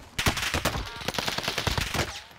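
Rapid automatic gunfire in Call of Duty Warzone, dense bursts of shots rattling continuously for a couple of seconds, loud and close.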